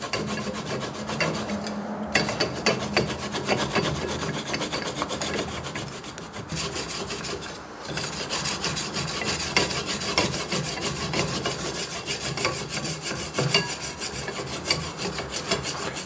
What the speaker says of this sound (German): Durch das Reiben und Verdichten wird es wieder hart.